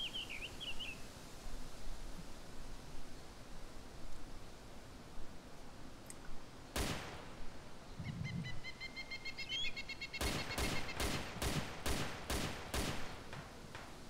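Gunfire from AI-controlled soldiers in the military survival game Arma 2 DayZ: a single sharp distant shot, then a rapid burst of several cracks in quick succession over a quiet, breezy outdoor background with faint bird chirps.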